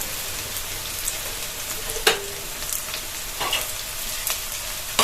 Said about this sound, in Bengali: এখন এটা খুব ভাজতে হবে, ভালো করে ভাজতে হবে, আলুটা একটু লালচে লালচে করতে হবে।